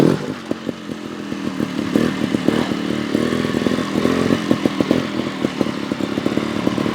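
GasGas TXT 300 trials motorcycle ridden over backyard grass on a trials obstacle course: a steady, close engine drone with rapid throttle blips and clattering bursts throughout, no voices.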